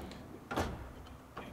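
A drawer on a professional tool storage cabinet is pulled and strikes its mechanical interlock stop, a single sharp metallic clunk followed by a fainter click, close and quiet.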